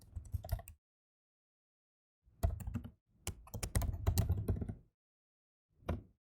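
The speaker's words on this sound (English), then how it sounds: "And after pressing enter" Bursts of quick keystrokes on a computer keyboard while entering Cisco IOS commands for SSH setup, three clusters of rapid clicking separated by pauses, ending with a single short tap, close and clear.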